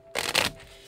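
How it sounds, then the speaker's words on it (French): Tarot cards are shuffled on a slippery surface in one quick, crisp riffle of papery flutter that is close and fairly loud, ending abruptly. "J'ai pas une surface qui est utile pour ce genre de brassage de cartes."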